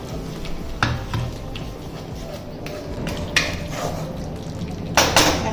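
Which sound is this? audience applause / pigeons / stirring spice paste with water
stirring spice paste with water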